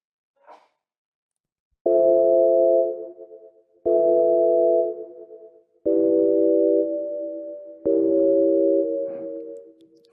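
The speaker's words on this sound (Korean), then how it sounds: "리버브를 적용했더니 바로 소리가 끊기지 않고 좀 울리는 듯한 느낌을 주고 있습니다." Four sustained sine-wave synth tones with reverb, each starting sharply and ringing for about two seconds before decaying into a reverberant tail, after a brief faint blip, clean and isolated.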